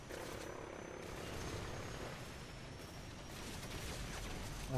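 Steady rotor drone of a helicopter in Call of Duty: Modern Warfare 3, with broadband rumble throughout, fairly constant and unbroken, with no voices.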